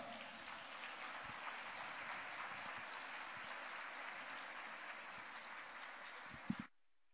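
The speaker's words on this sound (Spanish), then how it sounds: "Vamos a recibir con un fuerte y cariñoso aplauso al Padre Armando." Steady, dense applause from a crowd fills the room, holding at an even level before stopping abruptly near the end.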